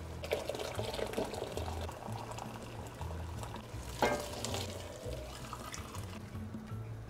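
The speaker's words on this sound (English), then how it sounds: "Now I'm gonna add my water." Water goes into a pot of fideo soup with chicken tomato bouillon, giving a steady, close splashing and churning wash of liquid throughout.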